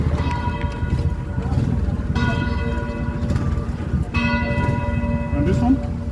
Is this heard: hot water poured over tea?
no